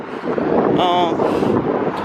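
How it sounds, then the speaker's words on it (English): Wind buffets a microphone outdoors with a steady, low rumbling roar, and a faint voice or engine tone cuts through briefly. "It got real windy from when I was recording earlier."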